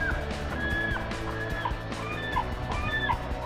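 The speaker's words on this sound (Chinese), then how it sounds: "然后还有很吵的海鸥" Noisy seagulls calling over a quiet country town in rural Japan, with several sharp, rising squawks repeating every second or so against a steady background hum.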